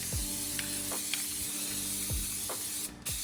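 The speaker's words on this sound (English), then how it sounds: "I'm just putting on some nice even coats around all the exposed metal that's under the" Aerosol rust protection coating sprayed under a 2024-2025 Toyota Tacoma onto exposed metal, a continuous close hissing spray with short repeated bursts and brief pauses, no talking.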